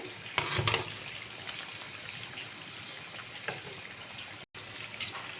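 Rui fish curry with flat beans simmering in a pan as tomatoes go in, a steady sizzle and bubbling throughout with a brief louder crackle and stir near the start, no voices.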